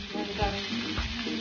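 Onion sizzling in a little oil in a pan, a steady crackle with a few soft stirring knocks, close and moderately loud, no voices.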